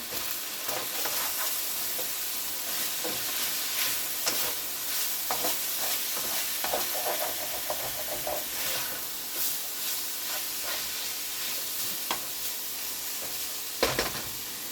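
A one-skillet chicken dinner sizzles and fries in a skillet, making a continuous crackling hiss with scattered pops and occasional stirring scrapes, at moderate loudness with no voices.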